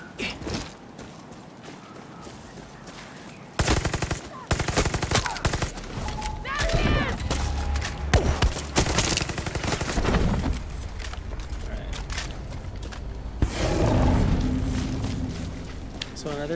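Rapid bursts of gunfire and automatic weapon fire in the shooter video game Far Cry 6, loud and dense from about four seconds on, with a voice talking over parts of it.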